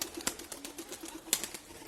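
Pigeons in a coop flap their wings in brief soft bursts, a few close fluttering beats with light rustling, faint overall.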